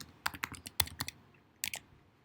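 Quick, uneven bursts of keys clacking on a computer keyboard while writing out a hypothesis in a spreadsheet, close and fairly quiet, with a short pause before a final flurry of keystrokes.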